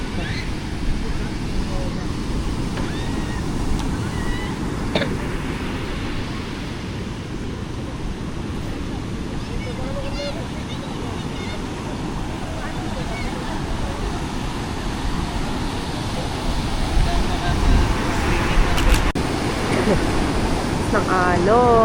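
Ocean waves washing onto a beach at Baler during a New Year trip, a steady roaring surf with wind buffeting the microphone, growing louder near the end, with faint voices and a child in the background.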